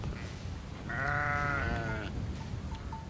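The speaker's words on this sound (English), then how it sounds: "They allow hundreds and thousands of sheep and goats to walk across here" A flock of sheep and goats bleats together on exhausted grazing land, one long wavering bleat rising clearly above a low background murmur of the herd.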